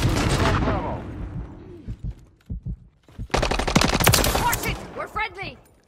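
Rapid automatic gunfire in a first-person shooter video game, loud bursts opening the clip and again in the second half, with scattered single shots and a brief quieter gap between, plus game voice callouts in the mix.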